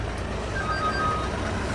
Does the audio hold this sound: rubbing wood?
no